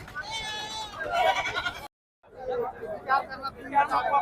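Sheep of the Gauran breed bleat repeatedly amid a busy livestock market crowd in Sakri, with people talking nearby throughout and a brief dropout in the middle.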